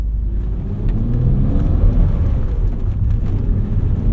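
A 1991 BMW M5 E34 inline-six engine drones and swells, rising in pitch as it revs, with a deep resonant rumble heard from inside the cabin.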